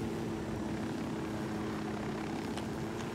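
A helicopter flies in the video game Ghost Recon Wildlands, its steady droning rotor and engine hum continuing without pause, with no talk in this stretch.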